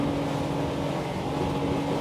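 A Windy SR28 CC sportsboat runs flat out at sea with a loud, steady engine roar and rushing water and wind noise that stay constant the whole time.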